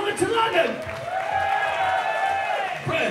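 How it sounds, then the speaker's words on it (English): A crowd applauds and cheers at a live punk rock concert in a small Edinburgh venue, a steady burst of clapping and whoops that fills the room for a few seconds, with a shouted voice over the top. "Let's have a round of fucking applause for people coming all the way down from Scotland to London"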